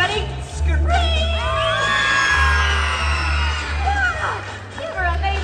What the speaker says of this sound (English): Now everybody scream.